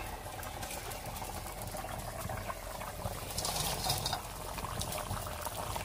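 A Bengali fish curry simmers in a pot with a soft, continuous bubbling hiss that swells slightly midway and never stops.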